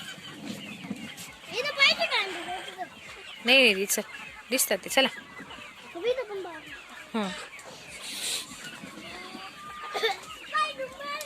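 Several loud rooster clucks and squawks ring out close by, scattered irregularly, as people talk and move around trying to catch the rooster for sale.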